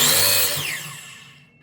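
A power saw cuts through a wooden board at a one-inch mark, loud and whining at the start, then its pitch falls away as the blade spins down and the sound fades out.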